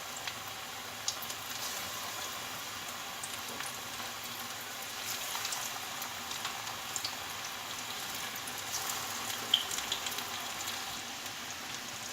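Gram flour pakoras deep frying in hot oil for a Ramadan mixed pakora recipe, a steady, dense crackling sizzle that holds evenly throughout with scattered small pops and no voices.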